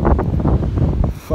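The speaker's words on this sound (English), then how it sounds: "Fucking windy out here." Strong wind buffets the microphone on Skegness Beach by a choppy sea, a loud continuous low roar with gusting surges and no talk.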